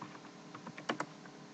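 Computer keyboard tapped in a quick, uneven run of soft clicks while a search keyword is entered, faint and close, with two sharper keystrokes near the end.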